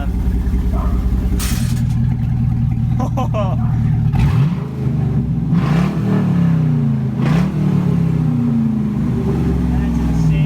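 A 2005 Pontiac GTO with an LS2 V8 idles, then revs hard with its exhaust valves open, giving a loud, raw, close exhaust bark in several sharp rising and falling pulls over a rumbling idle.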